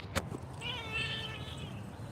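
A cat gives one drawn-out, wavering meow of moderate loudness, preceded by a sharp brief click, outdoors with light background noise.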